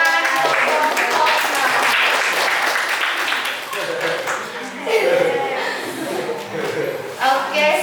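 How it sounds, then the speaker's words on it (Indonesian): A classroom audience applauds after a group presentation, a dense steady patter of many hands clapping that lasts several seconds with voices mixed in beneath it. "Yang memberikan tepuk tangan untuk"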